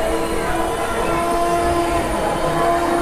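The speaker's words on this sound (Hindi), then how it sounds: "हमारी गुजरात सुपर फास्ट एक्सप्रेस अभी वडोदरा में खड़ी है प्लेटफॉर्म नंबर 1 पर।" Gujarat Superfast Express stopped at platform 1 of Vadodara station, heard as a steady background rumble of the train with a sustained tonal hum or distant horn-like drone, fairly even throughout and unaccompanied by speech.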